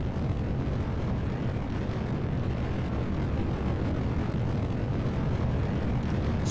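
Delta IV rocket carrying KROL-1 with two GEM 60 solid rocket motors in flight, a continuous deep broadband roar with steady rumbling, no distinct events, no voices.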